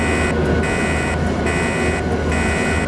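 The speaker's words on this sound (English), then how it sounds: "the train horn sounds like a kazoo in a wind tunnel" A Polish train's reedy, buzzy horn in the game SimRail blares in repeated long blasts with short gaps, over a constant loud rumble of the moving train.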